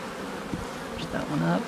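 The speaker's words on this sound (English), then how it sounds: "So I don't even smoke these bees very much, and they're all really mellow, especially for a queenless colony." Honey bees buzz in an opened hive of a queenless colony, a steady close hum of many insects with brief louder passes near the end.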